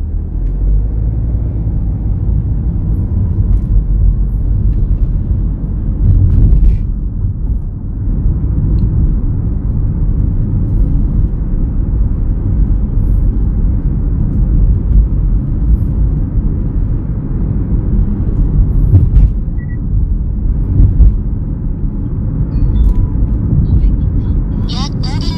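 A driving-test car in a road-course exam pulls away from a green light, its engine a steady low rumble filling the cabin with a slight swell as it accelerates, under occasional talk.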